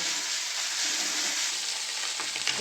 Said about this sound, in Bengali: মাছের তেলটা ভাজতে ভাজতে এতটা তেল বেরিয়ে গেছে